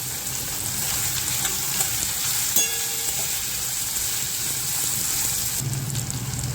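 Potato pieces frying with tomato in a hot pan, a steady loud sizzle and crackle throughout with a brief clink of a utensil partway through.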